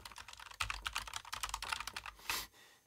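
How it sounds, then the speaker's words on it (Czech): Rapid typing on a Logitech G915 X Lightspeed keyboard with a metal chassis, a close, dense run of fairly plasticky keystroke clicks followed by one louder clack and a short pause. "Byť ta klávesnice má kovový šasí, tak prostě ten zvuk těch tlačítek zní docela jako dost fest plastově."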